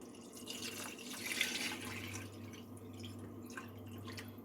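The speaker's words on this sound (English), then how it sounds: "it's time to pour in our green bean water" Green bean cooking water pouring and splashing into a pot, a soft continuous trickle with light drips, fairly quiet and close.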